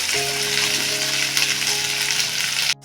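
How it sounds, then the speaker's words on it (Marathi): Okra is sautéed in hot oil for a spiced yogurt okra dish, a loud dense sizzle and crackle running steadily close-up, ending abruptly, with no voices. "आता ही बघा ही भेंडी टाकते चांगली मस्त परतून घ्यायची तेलामध्ये"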